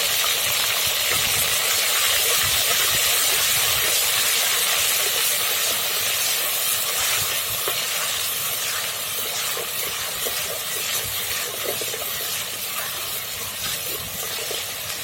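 Ginger garlic paste fries with cumin seeds in a hot pan, a loud, steady sizzle and hiss with fine crackling spatters running unbroken and close by.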